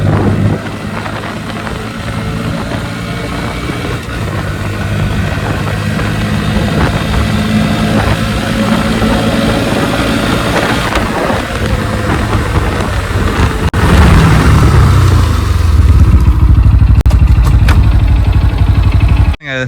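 Two Bajaj Pulsar motorcycles, an N160 and an NS125, run a full-power drag race, their engines droning loudly and steadily with a harsh rising surge toward the end.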